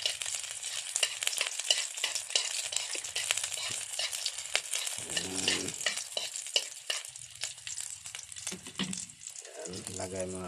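Sardines and garlic stir-fried in a hot pan give a loud, steady sizzle, broken by the scrape and clatter of stirring, close up and continuous throughout.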